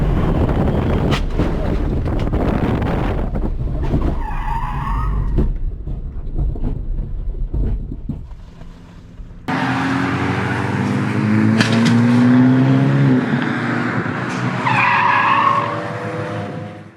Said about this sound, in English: I had no idea why the car had spun.